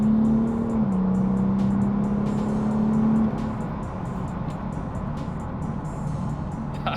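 A diesel BMW M4 with a fuel upgrade accelerates hard on a run, its engine note droning loud and steady from inside the car before easing into a lower, quieter rush of road noise.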